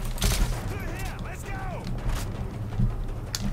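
Gunfire from the Call of Duty Modern Warfare 3 campaign, a few sharp shots and bursts punching through dense game noise and mechanical clatter, while a voice talks over the action.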